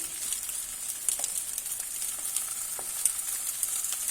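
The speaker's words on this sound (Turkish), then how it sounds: "Şimdi sucuklarımı ilave ediyorum." Turkish sucuk sausage slices sizzle steadily in a hot pan, a continuous close frying hiss with small crackling pops and no talking.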